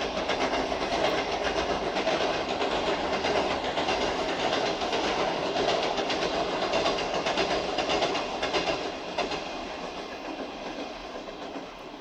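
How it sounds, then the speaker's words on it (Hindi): Train passing on a nearby railway line, a loud continuous rumble and rolling clatter of wagons that eases slightly toward the end, with no talk. "ये देखें गाड़ी की लाइन है रेल की, और हर 15 मिनट बाद रेल गुजरती है"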